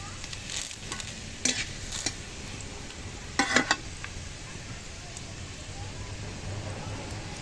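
Bay leaves dropped into hot oil for a green mango pickle give a steady, rain-like sizzle, with a few short clinks of stirring along the way.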